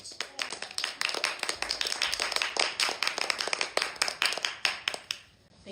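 Applause for Marianne at a business sales event: a crowd claps steadily with dense, overlapping hand claps for several seconds, fading out at the end.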